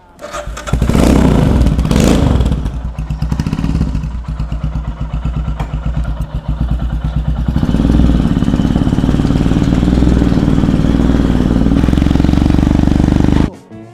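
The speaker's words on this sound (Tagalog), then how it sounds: "This is a Royal Enfield Interceptor 650." Royal Enfield Interceptor 650 motorcycle, a parallel-twin built into a custom bobber, runs loudly and steadily close by, revving up and then holding a deep rumbling idle before cutting off abruptly near the end.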